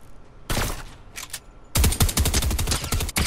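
Rapid bursts of automatic gunfire in Fortnite, loud and close, a short volley followed by a pause, then a longer sustained stream of shots.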